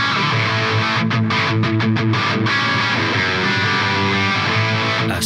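An electric guitar played through a YAKL Pedals Bueno treble booster, a Rangemaster-style pedal, rings out loud and distorted with sustained chords and a quick run of choppy strummed stabs, alone without talk.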